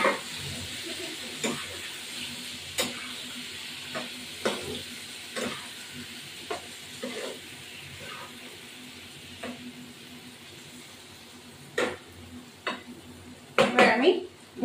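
Bombay duck (lote) fish fries in white oil in a pan, a steady close sizzle broken by stirring scrapes and clinks of a utensil against the pan.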